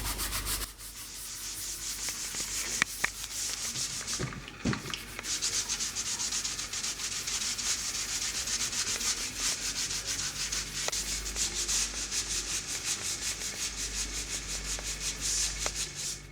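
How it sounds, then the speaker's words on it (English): A leather car steering wheel is sanded by hand in a continuous, even scratchy rubbing that runs close and steady for the whole stretch, with a few small knocks and no talk. "So we've just finished sanding a leather wheel"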